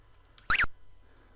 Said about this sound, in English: the whip does a little strange squeaky noise